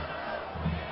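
Football supporters in the stands at a Brazilian third-division final between AC Paranavaí and Nacional roar a crowd chant, a distant, massed vocal drone swelling briefly near the end, faint and continuous.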